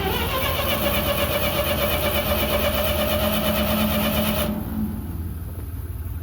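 A Ford 3000 tractor engine cranks and runs loud and close, a rough steady mechanical drone with knocking pulses that cuts off abruptly near the end, leaving a quieter rumble.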